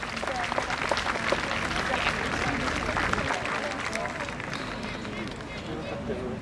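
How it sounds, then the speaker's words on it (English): Crowd clapping for a South Wales mounted police horse at a pony and cob festival, steady outdoor applause with a murmur of voices mixed in over several seconds. "Good, give him a clap"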